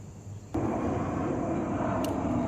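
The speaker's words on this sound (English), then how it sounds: "Daggum airplanes." An airplane flying overhead sets in abruptly as a steady, loud broadband drone that holds evenly to the end, with no talking.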